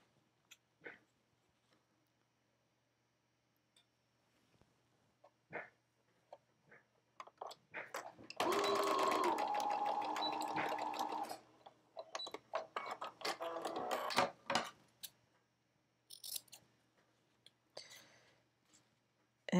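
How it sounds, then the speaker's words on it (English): A sewing machine stitches bias tape onto a 1920s flapper dress, running in one sustained whirring burst in the middle, framed by quiet clicks, taps and short mechanical stops. "I'm just going to sew on the outside, right sides together, look, like that."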